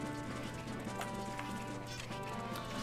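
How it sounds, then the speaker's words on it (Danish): A horse gallops in Zelda: Majora's Mask, its hooves making a quick, steady clip-clop under dense game music for the whole stretch. "jeg skal bruge en hest her"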